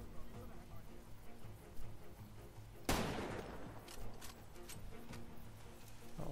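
A single loud gunshot cracks sharply amid the game sound of Far Cry 2, followed by a few fainter shots over a steady background hum, with a voice talking quietly at times.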